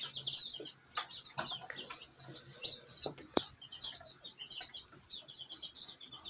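Small birds chirp in quick, repeated high twitters amid a busy poultry setting, with young local chickens clucking and peeping nearby; the calls come steadily throughout, fairly close, over a constant low background.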